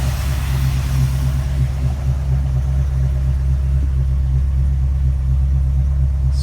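Old car engine idling right after starting, a steady low rumbling hum with an even throb, close and loud with no talk.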